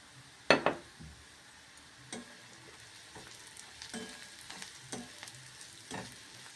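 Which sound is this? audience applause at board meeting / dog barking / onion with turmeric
onion with turmeric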